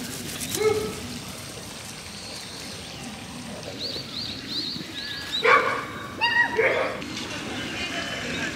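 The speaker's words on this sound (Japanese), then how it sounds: "リオン来た、ほら、ワンちゃん" Small dogs barking and yipping, including a tiny toy-breed dog and a toy poodle, in short bursts of sharp high yelps and barks against faint background noise.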